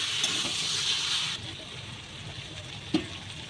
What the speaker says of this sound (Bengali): আমি অল্প করে জল দিয়ে দিচ্ছি।